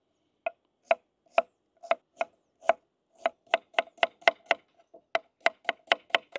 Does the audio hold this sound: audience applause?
no